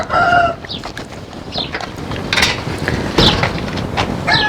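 Australorp and Leghorn hens cluck and a rooster crows in a busy coop, with bird calls overlapping throughout and steady background rustle.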